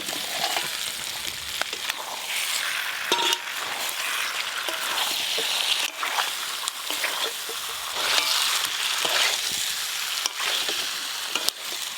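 Fried potatoes hit a pan of spice masala and sizzle steadily, a loud continuous hiss with stirring scrapes, close and without talk.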